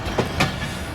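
Allama Iqbal Express passenger train of Pakistan Railways running near Pasroor Railway Station, a loud close rumble of wheels on track with a couple of sharp clacks over a steady roar.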